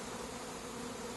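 Honey bees buzz continuously around an opened hive, a dense, even drone with no pauses and no voices over it.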